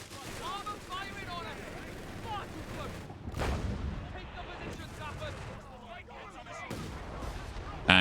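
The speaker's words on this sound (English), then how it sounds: "Perfect time to shoot the artillery." Artillery fire in the video game Company of Heroes 3, several heavy booming shots landing amid ongoing battle noise, with a sharp blast near the middle and another toward the end.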